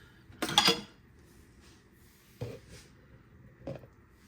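A small stainless steel strainer handled in a kitchen gives one bright metallic clatter, then two fainter clinks spaced a second or so apart, close and otherwise quiet.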